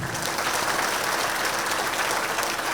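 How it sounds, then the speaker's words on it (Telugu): Steady applause from a crowd gathered for a rally, a dense, continuous clapping that fills the whole stretch without pause. "ఒకసారి గట్టి క్లాప్స్ అండి"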